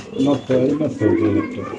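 Caged pigeons, males and females for sale, cooing in low repeated throaty bursts close by, with people talking over and around them.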